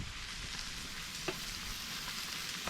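Chicken thighs cook on an Arteflame grill, giving a steady close sizzle and crackle of fat with one brief sharp pop midway.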